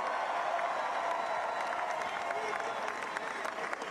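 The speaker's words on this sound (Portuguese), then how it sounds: "Trump é muito aplaudido" A large crowd applauds and cheers during Donald Trump's presidential election victory speech, a dense, continuous wash of clapping with scattered shouts in a big venue.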